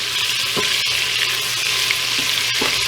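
Bacon rendering its fat in a pot with about a tablespoon of oil, a steady close sizzle and crackle with a few soft spits, continuous and without talk.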